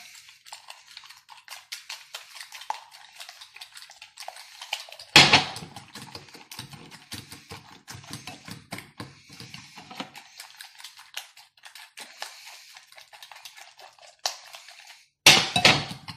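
Recipe ingredients are mixed in a bowl, giving quick repeated tapping and scraping strokes of a utensil against the bowl, fairly close, with a couple of louder knocks and no speech.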